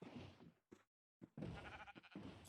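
Sheep in the video game Minecraft give repeated nasal bleats, fairly loud and close, with a brief silent gap partway through.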